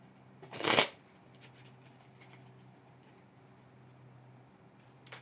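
A Lenormand card deck is shuffled in one quick, crisp riffle burst near the start, followed by quiet room tone with faint ticks and a brief second flutter of cards at the very end.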